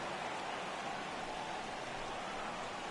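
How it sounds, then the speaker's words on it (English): Steady rain pours down through a baseball video game, a dense, even hiss that holds at a constant level from start to finish with no voices over it. "the conditions aren't ideal with the rain coming down"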